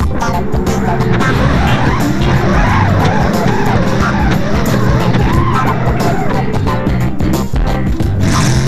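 A drift bus sliding and skidding its tires in BeamNG.drive, with continuous loud tire squeal and engine roar filling the whole stretch without pause.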